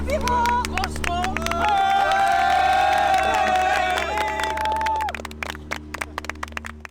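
A film crew cheers and applauds after a stormy pirate-film shoot, with clapping, whoops and excited voices over a low steady hum, the clapping thinning out toward the end.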